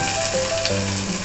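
Onions and potatoes frying in oil with ginger garlic paste, a steady close sizzle running evenly throughout with faint stirring and no voices.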